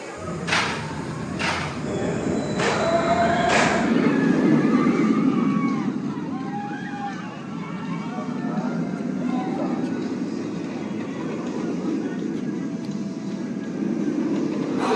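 Thunderbird launched roller coaster at Holiday World roaring through its takeoff: a loud, sustained rushing rumble with a few sharp clattering knocks early on, steady wind noise throughout, and voices audible under the ride.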